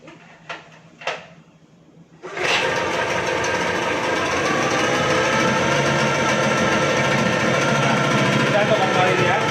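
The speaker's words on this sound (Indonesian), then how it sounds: "kita coba tes nyala mesinnya ya" A Yamaha 15 two-stroke outboard engine gives a couple of short clunks and pulls, then catches and settles into a loud, steady idle close by that keeps running to the end.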